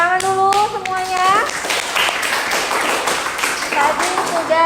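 Classroom of students clapping their hands after a group presentation, an uneven patter of claps beginning partway through, with a teacher and children talking at the start and again near the end.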